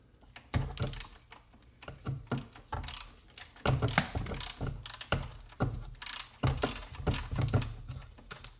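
Wrench backing out the differential fill plug on a Polaris Sportsman XP 1000 ATV: a run of quick, close metallic ratcheting clicks in uneven bursts, no talk.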